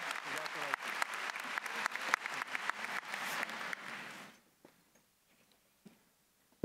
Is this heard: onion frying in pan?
no